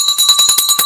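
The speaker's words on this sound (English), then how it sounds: "bell time! The market has closed." A stock market closing bell rings in rapid, loud, continuous clangs, a bright metallic trill heard close and alone for about a second.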